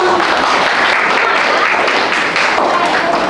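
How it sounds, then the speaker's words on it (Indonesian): Students in a classroom applaud a presenting group during a teaching practicum session, a loud, continuous, close patter of many hands clapping without a break. "Berikan tepuk tangan untuk kelompok."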